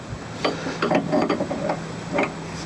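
Ratchet tool clicking as a new tie rod is tightened during a suspension rebuild, several short bursts of close mechanical ratcheting in quick succession.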